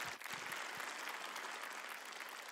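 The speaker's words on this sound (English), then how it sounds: "Can we give Eve a round of applause?" Audience applause at a university pitch competition, a roomful of people clapping in a steady, dense wash, fairly faint and distant, with a few separate claps at the start.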